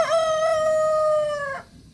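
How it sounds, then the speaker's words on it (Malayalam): A rooster crows once in the morning, a single loud, close call held for about a second and a half before it cuts off, with no talking around it. "രാവിലെ തന്നെ നമ്മുടെ മണിയൻ കൂവി തുടങ്ങി"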